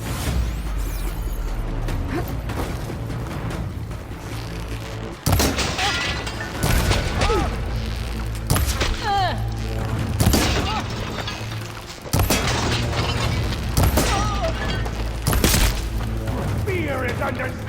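Covering gunfire in the video game Horizon Burning Shores: repeated loud sharp bursts and thuds at irregular intervals over a steady combat rumble, with voices talking throughout.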